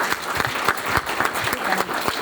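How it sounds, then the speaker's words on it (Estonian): Audience applause for a geneticist's talk at a Finno-Ugric heritage club lecture, a dense, steady patter of many hands clapping close by throughout. "teeme siis ühe suure aplausi Kristiinale"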